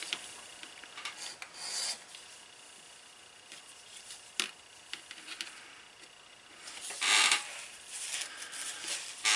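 A leather edge beveler scrapes along the edge of a single pocket card wallet, giving a dry, rasping rub in short uneven strokes, close and fairly quiet.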